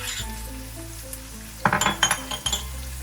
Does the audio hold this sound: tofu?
yes